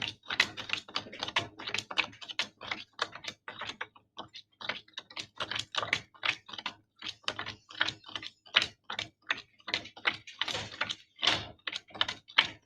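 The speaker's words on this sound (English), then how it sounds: "then what you do is you're going to shuffle the deck." A deck of Phylo game cards being shuffled by hand, a quick run of crisp papery clicks and riffles repeating close up for several seconds with short pauses, no talking.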